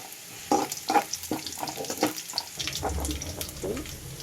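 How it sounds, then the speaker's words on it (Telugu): Garlic and cumin frying in a pan while being stirred, giving soft, close sizzling with scraping stir strokes and light clatter at a moderate level. "దీన్ని బాగా ఫ్రై అవ్వాలి బ్రౌన్గా"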